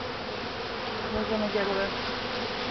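Honeybees buzz steadily around a top bar hive during a honey harvest, a dense close hum that continues throughout while a person speaks briefly over it.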